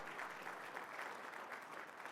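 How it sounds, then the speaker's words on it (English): Applause fills a gala hall, a dense steady clapping from a large audience that sounds somewhat distant and soft, continuing without a break. "Let's have a big round of applause."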